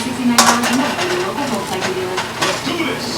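A utensil scrapes and clanks against a pan as onions and pork chops are stirred, with a couple of sharper metallic knocks over a steady sizzle, under a person's talking.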